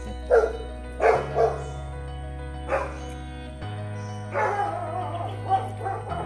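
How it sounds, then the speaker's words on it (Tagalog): A large dog near a house in a seaside neighbourhood barks in several separate bursts, some with howl-like and yelping tones, over a steady low hum. "Ang laki ng aso doon."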